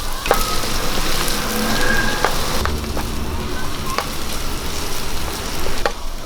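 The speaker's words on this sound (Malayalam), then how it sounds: "ഇത് ഒരുപാട് അങ്ങ് കരിഞ്ഞു പോകുന്ന പോലെ മൂപ്പിക്കുകയൊന്നും വേണ്ട ചെറുതായിട്ടൊന്ന് വഴന്നു വന്നാൽ മതി" Ginger-garlic paste and green chillies sauté in a pan for chicken curry, a steady close sizzle broken by scattered clicks and scrapes from stirring.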